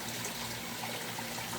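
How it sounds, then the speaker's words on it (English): Rainwater sprays from a hose onto a sandy garden bed of young vegetables, a soft, steady hiss of gushing water at close range with no voices. "I'm spraying rainwater"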